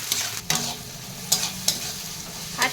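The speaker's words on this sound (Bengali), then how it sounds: "এই যে আমার পেঁয়াজ ভাজা" Onions and tomatoes frying in a pan with a steady soft sizzle, broken by several sharp scraping stirs of a utensil against the pan at irregular intervals.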